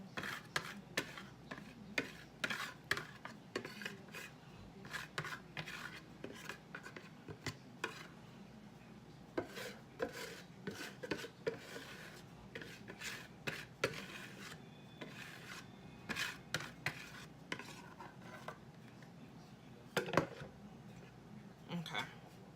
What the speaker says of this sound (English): I'm trying to scrape this out because I'm being lazy